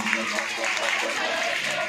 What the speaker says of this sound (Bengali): সবাই মিলে জোরে আর একবার হাততালি ওনার জন্য।